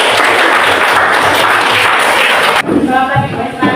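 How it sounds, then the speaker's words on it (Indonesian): A classroom audience claps in a dense burst of applause after a group presentation, loud and close, breaking off abruptly near the end into a quieter room with a voice starting up. "Kita berikan aplaus dulu."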